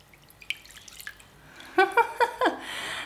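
Water drains from a salad spinner after a spin while making taco salad, a few soft drips giving way to a short series of trickling pours nearby.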